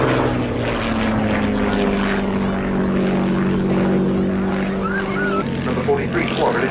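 Hawker Fury Mk 1 biplane with a 525 horsepower supercharged Rolls-Royce Kestrel V12 piston engine flying at an RAF Cosford airshow, a loud steady droning engine note that drops in pitch near the end, with someone talking over it.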